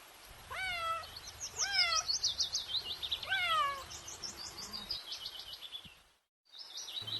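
A cat meows three times in drawn-out, falling cries, followed by a series of quick high chirps that continue after a short pause.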